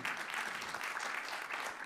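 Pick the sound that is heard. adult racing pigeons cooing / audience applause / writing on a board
audience applause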